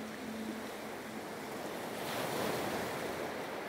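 Ocean waves wash steadily onto the shore in a continuous, close, even surf roar that swells a little partway through, with some wind noise and no voices.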